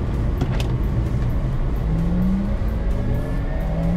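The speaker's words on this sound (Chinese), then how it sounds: "踩完油门" A 2021 Porsche Taycan electric sports car accelerating hard at full throttle on a race track in Sport Plus mode: a steady loud drive whine that climbs smoothly in pitch, with no talk.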